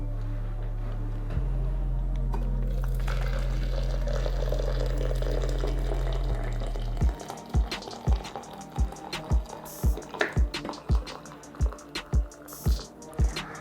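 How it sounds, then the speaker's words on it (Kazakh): Boiling water pours in a steady, loud stream over mint, two lemons and navat (crystal sugar) for about six seconds, then stops and gives way to a run of sharp ticks and taps. "Енді біз оның үстіне қайнаған су қосамыз."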